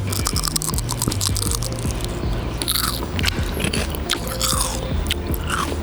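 Close-up crunching of a dry, crunchy potato-chip-like convenience store snack, with dense, rapid bites and brittle crackles from chewing that carry on without a break and no talking.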